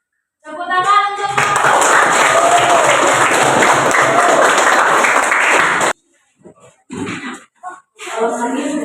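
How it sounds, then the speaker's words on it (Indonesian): An eighth-grade class in a school science lesson claps and cheers loudly for about five seconds after a group presentation, then the noise stops and scattered voices and movement follow. "Tepuk tangan untuk"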